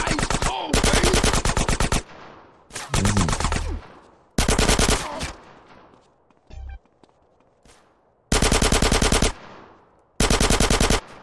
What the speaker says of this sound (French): Oh, les gunfights.